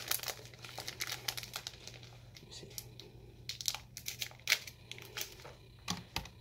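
Candy bar wrapper crinkling and crackling up close as it is pulled open, a run of sharp papery rustles and snaps over several seconds with a faint low hum beneath.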